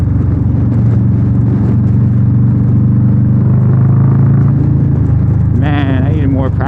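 Motorcycle engine rumble and wind buffeting during a ride fill the whole stretch at close range with a steady low drone, and a short tonal sweep near the end.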